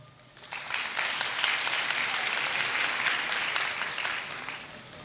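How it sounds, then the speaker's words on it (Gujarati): A seminar audience claps on cue, with bright, dense applause that swells quickly and holds steady for several seconds before tapering off. "ઠોકો તાળી."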